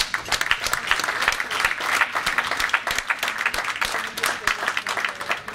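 Applause at a fundraising dinner for a photo of a child, a moderately loud room of clapping hands with irregular sharp claps standing out, steady across the stretch.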